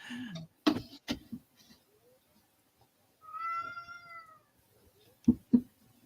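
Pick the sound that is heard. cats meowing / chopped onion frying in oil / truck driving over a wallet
cats meowing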